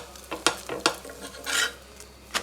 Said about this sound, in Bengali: এই ভাজার পরোটাটা আমি একটু কেটে কেটে নিয়ে নিই, তাহলে আর এটা শক্ত হয় না